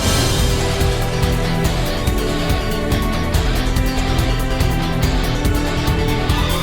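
Intense orchestral tutorial battle music from Xenoblade Chronicles 3 plays loudly, with punchy rhythmic hits, busy melodic lines and a dense, driving beat from start to finish.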